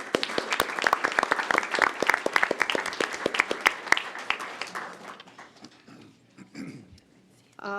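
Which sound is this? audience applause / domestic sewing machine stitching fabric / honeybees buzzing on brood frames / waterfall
audience applause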